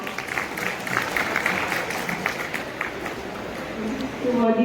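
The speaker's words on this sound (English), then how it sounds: "So give a huge round of applause." Applause from a crowd at a college society function in a hall, a dense, loud wash of clapping that runs continuously, with voices and a tonal sound rising near the end.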